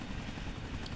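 A helicopter flies in the video game GTA 4, its rotor and engine making a loud, continuous whirring drone that fills the whole short moment, with no talking.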